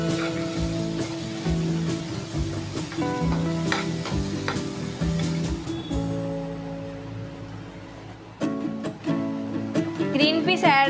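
Green peas being stirred into sizzling soya keema in a pan, steady frying sizzle with rhythmic clinks and scrapes of a spoon, fading briefly before a burst of stirring near the end, with some faint background voice.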